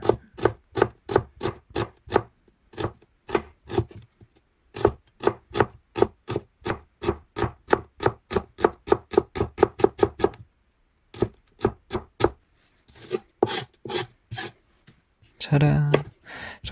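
A knife chops shallots on a cutting board in quick, crisp, evenly spaced strikes, loud and close, in bursts with brief pauses, ending in a short scraping sweep.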